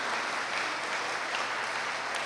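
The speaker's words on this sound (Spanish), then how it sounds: "¿Por qué no le brindamos un fuerte aplauso al Señor" A church congregation applauds during a sermon, a dense, continuous wash of many hands clapping at moderate distance, with no voices on top.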